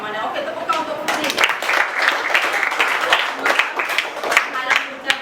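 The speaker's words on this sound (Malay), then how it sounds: "tepuk tangan untuk Putri." A primary school class applauds a student, a lively burst of children's clapping mixed with voices and chatter, fairly close and uneven with sharp claps throughout.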